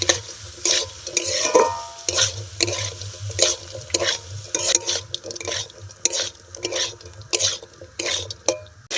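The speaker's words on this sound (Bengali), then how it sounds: "সবগুলো উপকরণ দিয়ে দিয়েছি এবার খুব ভালো করে আমি কিছুক্ষণ কষে নেব" Cauliflower samosa filling with spices and a little sugar is stirred and sautéed in a pan: rhythmic scraping strokes, about two per second, over a low frying sizzle, close and fairly loud, with no voices.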